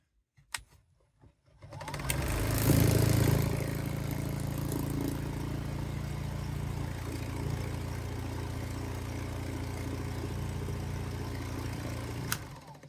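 An electric spinning wheel motor running at about 1400 RPM starts up after a few clicks and settles into a steady, loud mechanical hum with a faint whir, continuing evenly before a click near the end.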